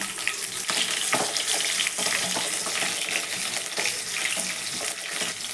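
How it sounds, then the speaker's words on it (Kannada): Mustard seeds and onion fry in hot oil in a pan for a bitter gourd gravy, making a loud, continuous sizzling hiss with irregular crackles and stirring bumps throughout. "ಎಣ್ಣೆ ಬಿಸಿ ಆಗಿದೆ, ಸಾಸಿವೆ ಹಾಕ್ಕೊತಿದ್ದೀನಿ. ಈರುಳ್ಳಿ ಹಾಕ್ಕೊತ ಇದ್ದೀನಿ."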